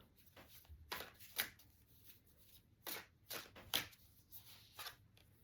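A deck of Elemental Empath oracle cards is shuffled by hand, giving soft, quiet bursts of riffling and sliding card noise in an irregular rhythm, close and low in level.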